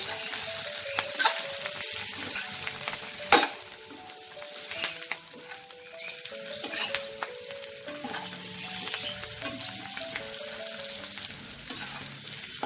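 Tangra fish frying on a gas flame turned down low, with Kashmiri red chili powder added, while a utensil stirs it: a steady sizzle with scraping stir strokes and one sharp clink, and no voices.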